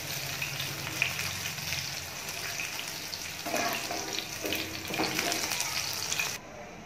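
Chicken pieces fry in a pan of hot oil for a chilli chicken dish, giving a steady broadband sizzle and crackle with a few louder bursts, close by and alone with no voices.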